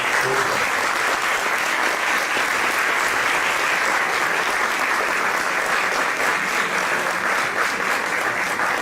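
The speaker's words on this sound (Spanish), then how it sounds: "Pido un aplauso para todos." A large crowd applauds steadily and loudly throughout, a dense wash of clapping with no pauses.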